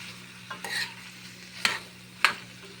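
Beetroot deep frying in oil, a low, steady bubbling sizzle broken by three or four sharp spatula scrapes or taps against the pan, close and fairly quiet, with no voices.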